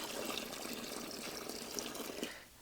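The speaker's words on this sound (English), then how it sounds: "I'll just scoop a little water out here and put in there" Water is scooped and poured into an ore sample to pre-moisten it, making a steady close splashing, trickling rush that tapers off at the end, with no talk.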